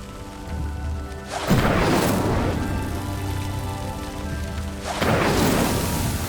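A roaring, crackling rush of flames engulfs a pyre set alight by an Incendio spell in a Hogwarts video game, swelling loudly twice over a steady low background rumble.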